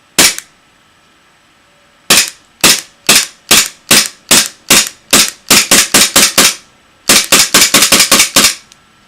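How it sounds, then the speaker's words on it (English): A KWA ATP gas blowback airsoft pistol dry fires in a rapid series of sharp, loud, close snapping clacks. There is a single shot, a pause, then quick bursts of evenly spaced cycles. "I'm about to show you some dry fire real quickly"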